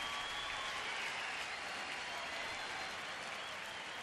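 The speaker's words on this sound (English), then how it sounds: "the crowd trying to get into it a little bit and saying, let's go" Baseball stadium crowd at Tampa Bay at Cleveland, July 2012, cheering and clapping in a dense, steady roar of applause that holds at full strength throughout.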